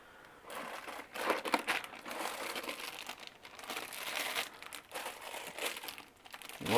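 Plastic bags crinkling and rustling continuously as the contents of an Aoshima Mazda Savanna RX-7 FC model kit box are unpacked, with bursts of louder crumpling close up.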